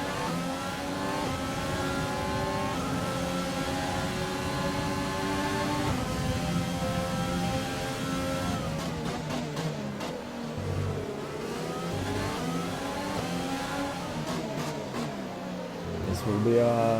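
A Formula 1 car in F1 2020, driving with front-wing damage, holds a continuous high engine whine that climbs and drops through gear shifts and corners, loud and close, with no talk.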